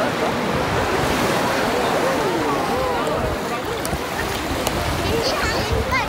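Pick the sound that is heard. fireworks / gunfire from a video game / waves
waves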